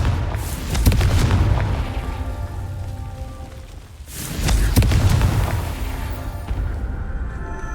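A deep booming blast from the Confringo fire spell in Hogwarts Legacy, with two heavy rumbling explosions, each swelling and slowly fading, and no talking.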